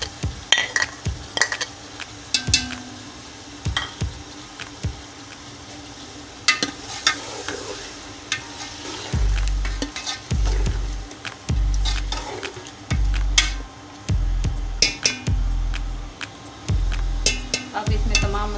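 A spoon stirs chicken and tomatoes in a pan for chicken biryani, with sizzling frying and repeated clanks and scrapes against the pan coming in regular strokes, close and fairly loud.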